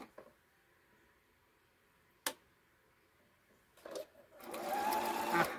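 A sewing machine ticks with a few isolated clicks, then starts running in a steady close whir as it stitches a zigzag.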